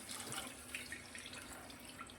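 Water poured from a tap or vessel during home cooking, a steady soft hiss of running liquid at low level, continuous and close with no talking.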